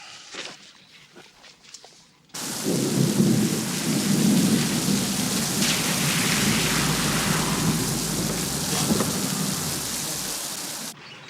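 A brief quiet stretch gives way to heavy rain pouring down steadily, with low rumbling thunder rolling underneath for several seconds before the sound cuts off.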